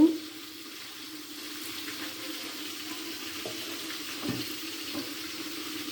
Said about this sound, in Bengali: এখন জল দেব একটু।